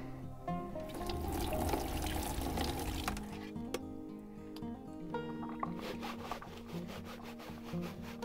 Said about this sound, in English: So first thing I'll do is rinse this guy off.